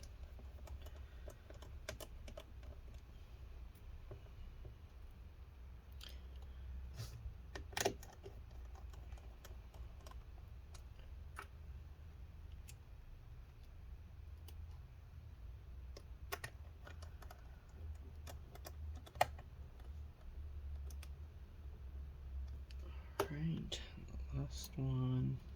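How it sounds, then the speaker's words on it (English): Four small screws go back into a Dell Inspiron 15 Gaming 7577 laptop during a hinge repair, heard as faint, sparse clicks and light taps from a small screwdriver in a quiet room. "let's go ahead and get these 4 screws back in"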